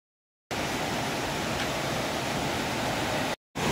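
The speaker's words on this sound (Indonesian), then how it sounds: "Ini dia sungai yang kita lihat dari atas tadi." A clear river flows beneath a footbridge on a hiking trail, a steady, dense rushing of water, loud and continuous, cutting off abruptly near the end before resuming.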